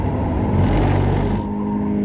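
A car lapping Cremona Circuit, its engine a loud, steady droning roar heard up close from on board, swelling slightly midway and holding with no voices.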